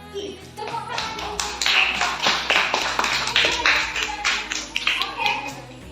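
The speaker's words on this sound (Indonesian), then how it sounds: "Tepuk tangan." A classroom group claps for another group, producing a quick burst of uneven, close-up clapping and tapping with voices talking over it.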